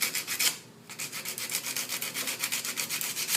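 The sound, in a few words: sanding rust off an object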